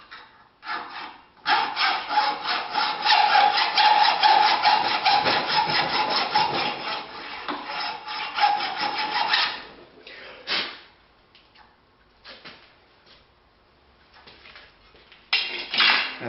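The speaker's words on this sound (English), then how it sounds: "Not too bad considering that saw was never meant to cut a piece standing vertically." A hand saw cuts a piece of steel stock clamped upright in a vise, giving a fast rhythmic rasping of strokes for about eight seconds, then a few short scattered strokes and quiet, close and alone.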